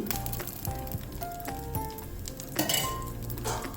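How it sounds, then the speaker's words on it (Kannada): Ghee sizzles on a palak dosa in a hot pan, a soft frying hiss broken by several light metallic clinks of a utensil against the pan, with no talking. "ಈಗ ಒಂದು ಸ್ವಲ್ಪ ಮೇಲ್ಗಡೆ ತುಪ್ಪ ಹಾಕ್ಕೊಳ್ತಾ ಇದ್ದೀನಿ"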